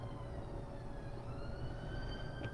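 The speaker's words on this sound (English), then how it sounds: "sounds like somebody needs a fire engine or an ambulance or the police." A faint emergency vehicle siren wails far off in an outdoor setting, its thin rising and falling tone drifting steadily above low background noise.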